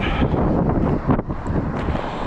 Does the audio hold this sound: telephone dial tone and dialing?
no